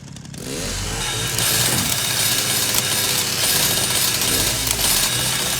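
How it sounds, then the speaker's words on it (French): A loud, harsh chainsaw motor in a Resident Evil game snarls and buzzes continuously after a brief start, revving rough and gritty like a chainsaw cutting. "j'ai une tronçonneuse"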